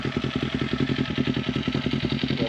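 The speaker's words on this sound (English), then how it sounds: "Let her idle for a second before I start revving the piss out of her." A customized Kawasaki Z400 motorcycle idles nearby, its engine putting out a steady, fast, even throb with a faint mechanical clatter, running alone without any revving.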